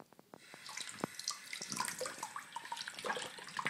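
Water runs from a tap to fill a pet's bath, a steady splashing gush with scattered drips and small clinks, moderately close and alone without speech.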